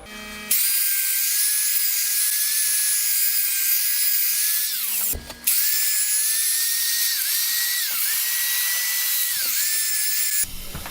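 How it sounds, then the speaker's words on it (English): Sandpaper pressed against a black oak pedestal bowl spinning on a wood lathe to remove cured CA glue, a steady loud whining hiss with a few brief breaks as the paper lifts off. "Alright, time to sand that stuff back off."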